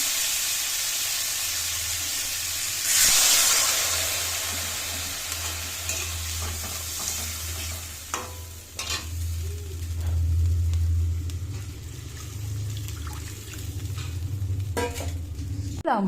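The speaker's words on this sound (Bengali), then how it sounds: "কালো জিরে ফোড়ন দিয়ে আলুটা দিয়ে দিয়েছি তারপর নুন হলুদ একটু ভাজা ভাজা করে" Potatoes frying in a pan with nigella seeds, salt and turmeric give a steady sizzle with occasional stirring scrapes, plus a low background hum, close up and without talk.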